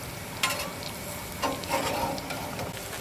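Tomatoes sizzling on a flat griddle while a chopped cheese sandwich is assembled, a steady soft frying hiss with a few brief scraping or flipping clatters.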